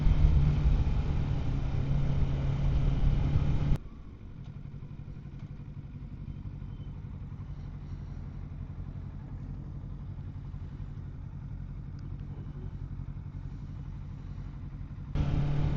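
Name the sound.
motorcycle riding while doing wheelies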